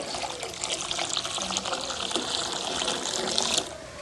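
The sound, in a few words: water being added to milk in a pot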